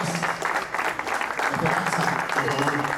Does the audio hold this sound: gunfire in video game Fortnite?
no